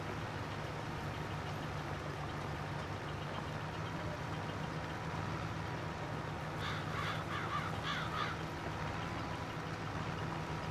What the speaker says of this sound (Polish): Gawrony znowu. wrony.